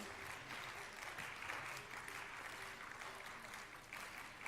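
Audience applause fills a school investiture ceremony hall, a steady, fairly faint wash of clapping that holds evenly for several seconds without breaks.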